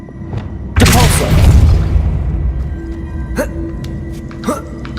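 Depulso spell cast in Hogwarts Legacy: a loud, sudden whooshing blast that swells and trails off over a second or two, followed by a few short magical pops and chimes against a low game ambience.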